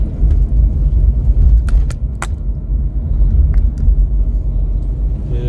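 A car drives along a mountain road beside the Mahakali river, with a steady low rumble of engine and road noise throughout and a few sharp knocks and rattles.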